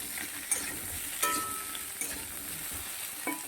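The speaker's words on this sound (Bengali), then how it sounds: "হালকা করে ভেজে নেব এখানে দেখো সবজিটা ভাজা ভাজা হয়ে গেছে" Vegetables lightly frying in a pan as the base for a hilsa fish curry, a quiet steady sizzle with a few sharp clinks of stirring.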